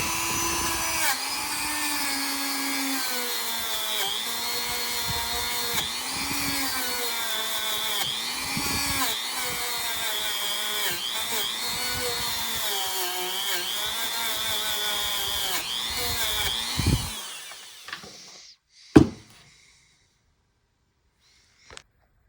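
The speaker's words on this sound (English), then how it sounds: "Get in here, this wire wheel." A spinning wire wheel whines steadily and loudly as a German-made knife is polished against it, close up and continuous before winding down and stopping with a few clanks, no talking.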